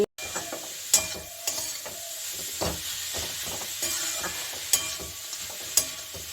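Radish frying in a pan sizzles steadily, with a spatula scraping and stirring in sharp, irregular strokes and occasional clinks against the metal, close and alone without voices.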